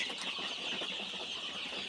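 A faint, dense chorus of about 992 Sonali hybrid chickens, 18 days old, clucking and chattering together, steady and continuous like a crowded coop heard at a distance.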